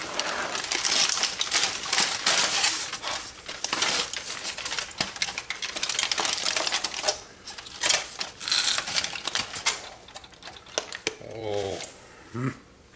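Aluminum foil being peeled off smoked ribs after two hours wrapped in the smoker (3-2-1 method): dense, continuous crinkling and crackling close up, with a brief voice near the end.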